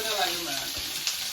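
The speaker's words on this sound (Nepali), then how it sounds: "तड्का लाग्यो" Chopped onion frying in hot oil for tempering on an electric stove, a steady, close crackling sizzle that runs without a break.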